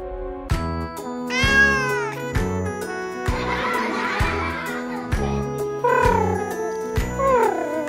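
An orange cartoon character mimics a kitten with a run of high, sliding meows, some short and some drawn out, over bouncy background music and brief pauses.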